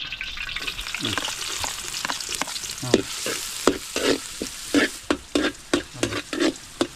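Ginger fries in hot oil with a busy, crackling sizzle, joined by frequent clattering stirring strokes that grow sharper and more rhythmic toward the end; no one speaks.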